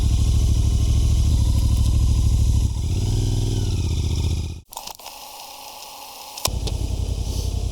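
A Royal Enfield Interceptor motorcycle fitted with a Daytona Velona mini speedometer runs with a loud, steady engine drone and wind roar, briefly dips and cuts out, then resumes strongly.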